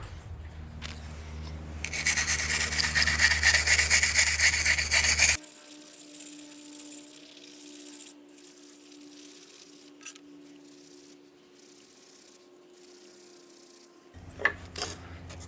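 A dedicated wire brush scrubs a quarter-inch aluminum plate before brazing, giving a steady, fairly loud rasping rub for several seconds, then quieter, sparse scraping and faint knocks.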